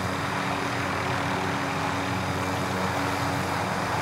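A helicopter in the Warzone video game gives a loud, continuous engine and rotor drone that holds steady and unbroken for the whole stretch, with no voices over it.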